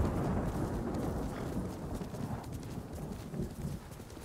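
Horse hooves clip-clopping in the video game Ghost of Tsushima, a dense steady trotting patter with low rumbling, loud and close, easing slightly toward the end.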